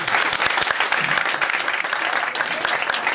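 A theatre audience at an improv comedy show claps loudly and continuously in response to a show-of-hands question. The applause is full and crowded, holding steady from start to finish.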